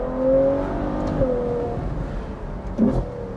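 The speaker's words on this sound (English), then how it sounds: "Listen to those downshifts!" A Ferrari 812 GTS with a V12 engine works through downshifts on the road, giving brief rising blips and a rumbling engine note. There is one clear burst near the start and another near the end, fairly close and with no talk.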